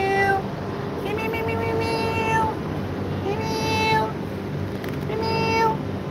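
A pet cat meows repeatedly, several drawn-out calls at close range, over a steady background hum with faint voices.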